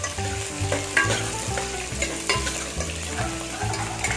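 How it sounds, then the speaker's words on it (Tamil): Onions and ginger sautéing in a pan for crab kuzhambu, a close, steady sizzle broken by regular scraping strokes of stirring, with no voices. "இது வதங்கட்டும். வெங்காயம் வதங்கிடுச்சு."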